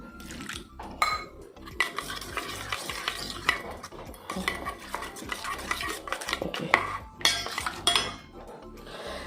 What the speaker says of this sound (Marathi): आणि आता ह्याच्यात मी उदक घालता आणि असे मिक्स करून दवरल्यार चड बरें